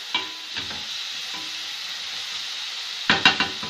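Onions sizzling steadily in a frying pan, with a few sharp scraping stirs near the start and a louder cluster of stirring clatters toward the end, close and alone.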